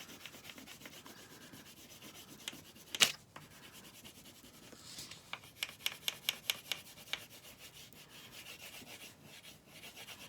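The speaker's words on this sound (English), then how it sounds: "Just coloring smooth with our crayon." A crayon rubs smoothly back and forth across paper, heard as close, soft, scratchy strokes in a steady rhythm with a few sharper taps.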